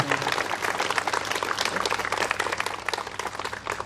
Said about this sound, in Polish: myślę, że brawa dla Stowarzyszenia Szansa i dla Roberta Romelu